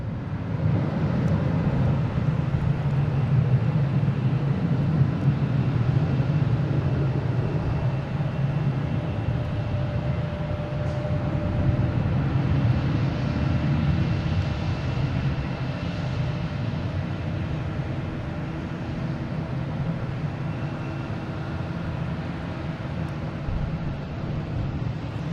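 A Delta Boeing 767-300 airliner takes off from runway 9 at Boston Logan, a sustained broad jet roar steady throughout, moderately distant and without voices.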